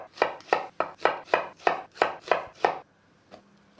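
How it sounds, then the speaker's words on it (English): Red and white onions being quartered with a knife on a cutting board: nine sharp, evenly spaced chops close up, followed by a near-silent pause and a faint last tap. "I have a couple onions, red and white. Just gonna cut them into quarters."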